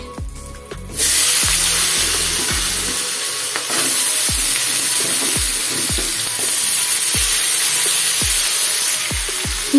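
Vegetables frying in oil left over from frying fish, a loud steady close sizzle and hiss with repeated scraping knocks of a spoon stirring the pan, and no voices.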